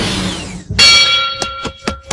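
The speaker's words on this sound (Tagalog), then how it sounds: "buti na lang tumunog na yung bell" Boxing bell in a Tagalog-dubbed anime fight, ringing to end the round: a bright metallic clang follows a fading noise, then several quick repeated strikes ring out clearly and sustain with a shimmering tone.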